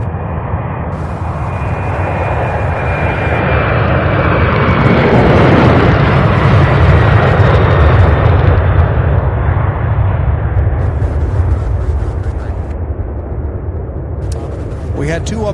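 A Boeing 767 taxiing at Louisville International Airport near the UPS Worldport, its jet engines roaring loud and steady, swelling in the middle and easing off toward the end.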